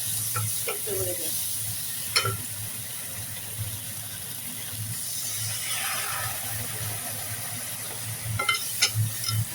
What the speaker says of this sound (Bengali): দিয়ে একটু ভালো করে নাড়াচাড়া করে সামান্য একটু জল দেবো, যাতে আলুটা সেদ্ধ হয়ে যায়